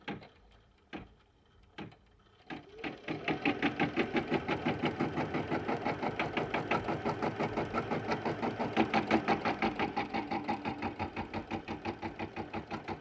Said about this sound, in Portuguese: A máquina vai fazer para mim a marcação.